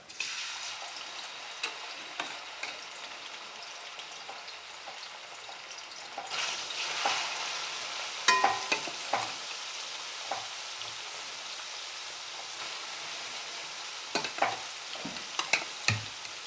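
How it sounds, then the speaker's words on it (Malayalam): Anchovies fry in hot oil with a steady crackling sizzle that grows louder partway through, along with scattered sharp pops and clicks of stirring close by. "എണ്ണ ചൂടായി മീൻ ഇട്ട് വറുത്ത് പോരാം മീനിടുകയാണ്"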